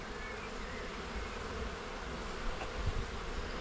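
Honey bees buzz in an opened colony hive, a faint, steady hum of many wings close by with a few slightly louder passes near the end, no talking.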